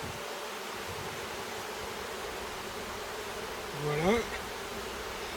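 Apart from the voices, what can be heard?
honey bees buzzing at a beehive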